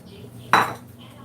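A skillet clanks once on a stovetop while French toast cooks, a single sharp metallic knock with a brief ring over a quiet background.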